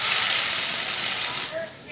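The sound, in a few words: fish curry broth boiling under a lid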